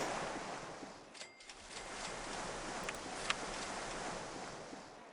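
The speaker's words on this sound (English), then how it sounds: "And it's already raining." Faint, steady hiss of rain falling in the theme park game OpenRCT2, a soft continuous wash with a few small clicks and taps, no talk over it.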